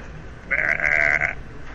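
A voice imitates a sheep's bleat, one sustained wavering baa of under a second, loud and close over a quiet background.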